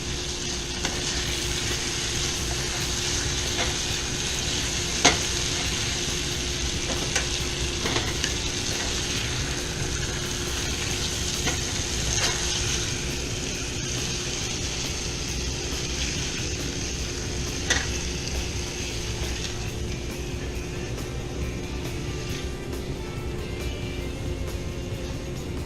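Pear slices for a rum glaze cook in a pot, giving a steady, continuous sizzle with faint crackles and an occasional clink of a utensil, alone and without talk throughout.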